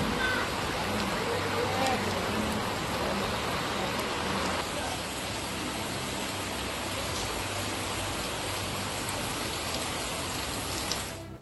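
Heavy rain falls continuously in Ullal, a dense, even hiss of downpour that stays steady and fairly loud throughout.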